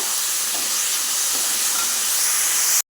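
Shallots and an onion frying in a pan give a steady, close, loud hiss and sizzle with faint stirring scrapes, no talk, ending in a sudden brief dropout near the end.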